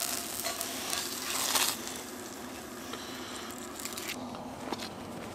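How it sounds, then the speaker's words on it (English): Ham frying on low heat in a pan on a camping heater stove, a steady soft sizzle and crackle heard close with occasional stirring scrapes, no talking. "When it's fully diffused on low, you know, you're not even browning the ham."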